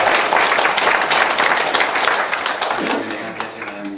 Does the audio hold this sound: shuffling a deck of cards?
no